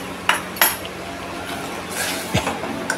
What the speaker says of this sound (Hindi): इसको कंटिन्यूसली चलाते रहेंगे, नहीं तो इसमें लम्स पड़ सकते हैं।